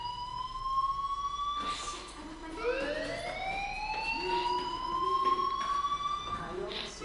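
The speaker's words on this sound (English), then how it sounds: "Hey, do you hear that fire alarm?" A fire alarm siren sounds in the video game Life is Strange, rising and falling in long sweeping wails that carry on throughout, with a voice speaking faintly underneath.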